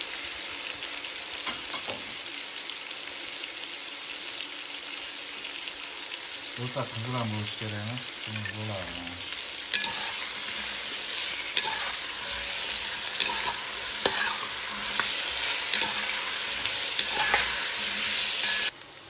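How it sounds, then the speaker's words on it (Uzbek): Meat and potatoes for meatball soup fry and get stirred in a pot, a steady sizzle with scraping stir strokes growing louder in the second half, while someone talks over it early on. "Yaxshilab qovurib oldik"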